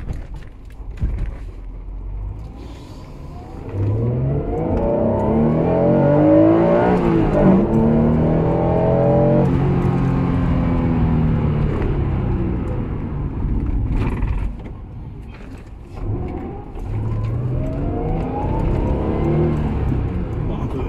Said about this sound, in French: le bruit du VTEC, c'est un V6 VTEC, c'est ça?